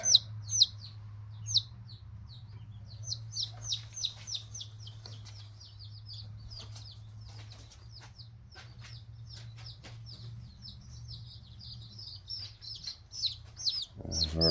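Barred Rock and Olive Egger chicks peep in a coop, a busy stream of high, rapid chirps close by over a low steady hum, with some handling noise near the end.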